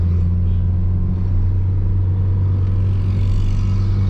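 Manual car engine roaring at around 3000 RPM, a steady loud droning hum with a strong low tone that holds constant throughout, with no talking over it.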